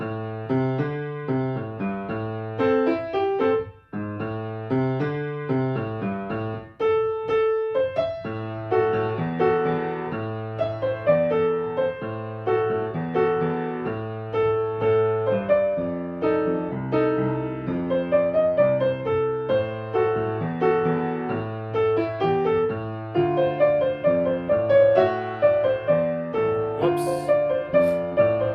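Piano plays a song with both hands together, a bouncing low bass line under chords and melody in a steady, easy lesson tempo, clear and close, with no talking.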